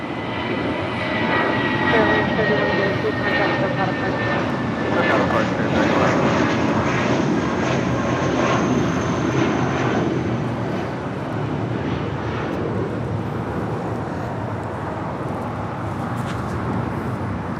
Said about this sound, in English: That was Spirit Airlines heading to Atlanta, Georgia. Spirit Airlines Flight 3103 and then A319.